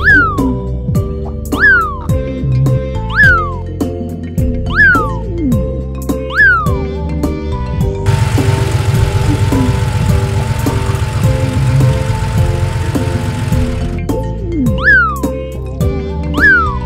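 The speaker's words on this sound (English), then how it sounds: "Meow." A cat meows repeatedly in short rising-falling calls against a musical backing for kids about vegetables, with a long stretch of broadband engine-like noise in the middle before the meows return.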